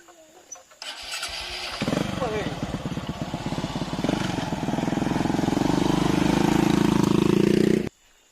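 Motorcycle engine starting and pulling away, a sputtering start followed by a steady, loud, close engine drone that builds slightly before cutting off abruptly near the end.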